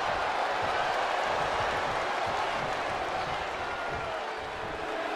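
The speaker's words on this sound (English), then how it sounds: "the Fiend is channeling the energy of this crowd" An arena crowd cheering and applauding in the WWE 2K24 wrestling game during a Cody Rhodes versus The Fiend Bray Wyatt match, a continuous dense roar of noise with no breaks.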